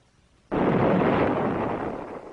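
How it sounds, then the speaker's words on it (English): After a half-second of quiet, a hot water tank explodes in a sudden loud blast that trails off into a long rushing roar of venting steam. "As the tank explodes, the copper tubing and control lines are ripped up into the air with the tank."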